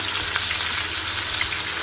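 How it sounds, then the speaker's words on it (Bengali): Potatoes fry in a pan with a steady, close sizzle and crackle that holds at an even level throughout, with no voices. "এদিকে পটল আলুটা কষার জন্য আলুটা ভেজে নিচ্ছি"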